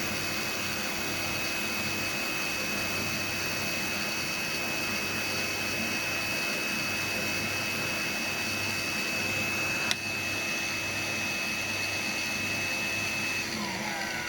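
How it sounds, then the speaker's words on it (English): A CNC tyre truer grinds a wheel against a diamond drum in a steady, continuous mechanical whir with a high whine. It holds at an even level throughout, with one brief click near the end. "now it's just basically waiting for the wheel to settle down and to become absolutely true against the diamond drum"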